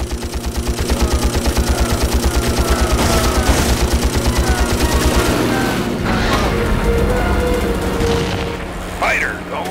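In a World War II Pacific air-combat video game, a fighter's machine guns fire a long, loud, steady burst of rapid shots over a droning aircraft engine, then give way to engine roar and whistling combat noise.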